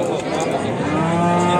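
A cow at a livestock market in Andijan, Uzbekistan lets out one loud, drawn-out moo close by, over the murmur of the busy market.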